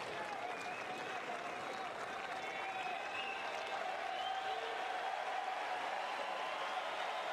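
A tennis crowd in Montreal applauds at a women's match, a dense, sustained wash of clapping that stays even and fairly loud for several seconds with no break.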